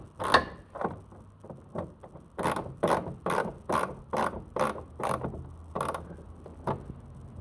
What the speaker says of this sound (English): Have to grab the screwdriver